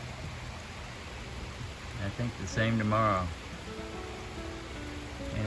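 Steady rain falls outdoors on a chilly day near Daleville, Virginia, a constant close hiss of drops that continues under a man's brief spoken remark.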